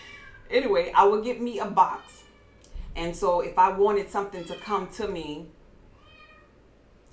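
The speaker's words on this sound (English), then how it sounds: "Excuse my cat, if y'all could hear my cat." A cat meows from inside a closed room, wanting to be let out, its calls faint and intermittent under a person's steady talking.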